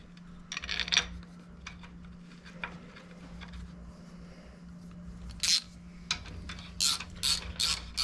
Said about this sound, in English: we're going to snug it down